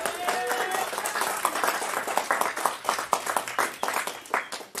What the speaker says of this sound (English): let's give everybody who's watching online a great big hand clap this morning